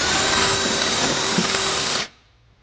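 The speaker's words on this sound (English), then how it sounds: "There's not an existing hole in the frame, so we're going to have to drill that" A power drill bores a 1/2-inch hole through the steel frame of a 2018 Nissan Sentra, a loud steady whine that runs for about two seconds, then stops abruptly.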